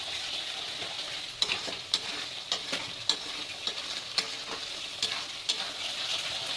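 Spiced paneer gravy with red chilli powder and garam masala cooks down in a pan, a soft steady sizzle broken by regular scraping clicks of a spatula stirring about once a second, fairly quiet with no talking.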